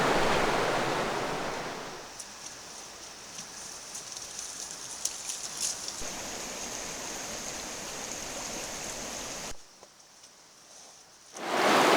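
Butte Creek runs over riffles and around bends, a steady close rush of flowing water that holds through most of the stretch, then drops away briefly and swells back.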